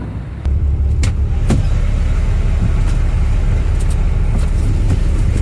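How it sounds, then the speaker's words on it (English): An 18-speed semi truck engine rumbles loudly and steadily from inside the cab, a constant low drone with a few faint clicks over it. "The truck's pretty loud."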